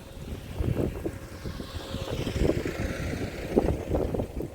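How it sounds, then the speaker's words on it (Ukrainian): Strong wind buffets the microphone in uneven rumbling gusts at Kuyalnik, Odesa, with a faint hiss of moving air and no voices. "Там вітер такий, що то капець, слухайте."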